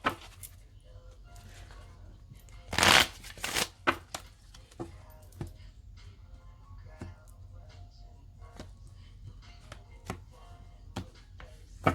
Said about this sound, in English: shuffle the cards again to catch your energy